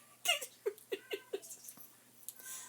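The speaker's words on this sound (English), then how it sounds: "since the cat is meowing so loudly" An indoor cat gives a quick run of four or five short, chirpy meows in a steady rhythm, fairly faint, with soft rustling around them.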